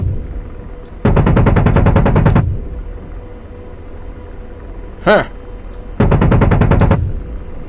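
Two long bursts of rapid automatic cannon fire from an AH-64D helicopter in the video game DCS World, each about a second and a half, separated by a short whooshing sweep, loud and close.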